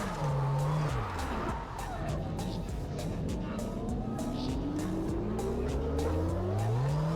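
Racing car in a video game driven with a Moza R5 wheel, tires squealing and engine whining steadily as the car oversteers, continuous and fairly loud with rising and falling engine pitch, no talking.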